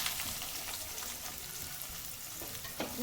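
Steady crackling sizzle of onions frying in hot sesame oil, continuous and close, with a faint clink near the end.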